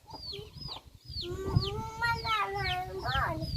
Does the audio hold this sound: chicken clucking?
yes